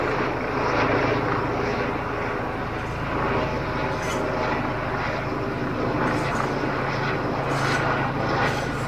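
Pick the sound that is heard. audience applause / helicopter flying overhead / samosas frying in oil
helicopter flying overhead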